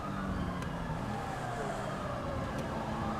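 A police siren in GTA 5 wails steadily beneath loud road and engine noise, the sweeping tone faint and continuous across the few seconds.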